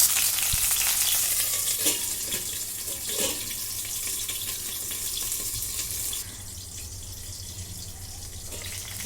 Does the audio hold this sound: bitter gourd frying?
yes